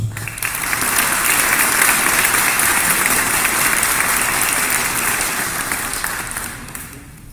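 An audience at a book presentation for Café de otoño breaks into loud, sustained applause that swells quickly, holds for several seconds and then fades, with no speech over it.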